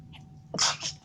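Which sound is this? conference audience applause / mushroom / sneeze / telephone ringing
sneeze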